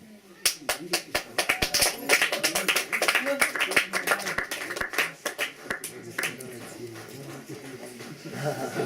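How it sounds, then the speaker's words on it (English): Audience clapping at a political talk in Berlin, scattered claps building into applause with speech-like voices mixed in, loud and close, then tapering and thinning toward the end. "That's right, you can clap."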